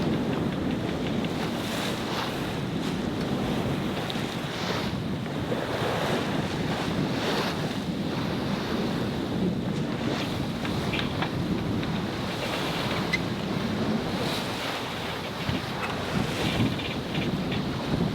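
Strong Papagayo wind rushes across the microphone while waves surge and slap around a small sailboat at sea, a steady loud roar with no voices.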